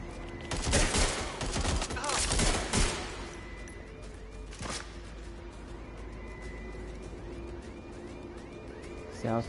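Rapid gunfire in Watch Dogs Legion: dense, loud volleys of shots fill the first few seconds, then settle into scattered quieter shots with occasional talking.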